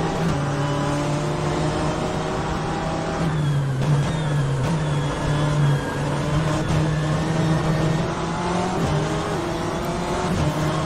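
A BMW M8 GT race car in rFactor 2 at Sebring, engine droning loud and steady as it pulls through the gears, with a brief dip at a shift and a continuous high-revving tone throughout.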